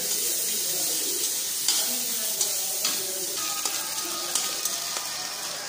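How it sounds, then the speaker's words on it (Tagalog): Garlic sautéing in a pan for tofu with sweet sauce gives a steady, moderate sizzle throughout, with a few sharp clicks of stirring. "Sunod-sunod na po natin itong igigisa."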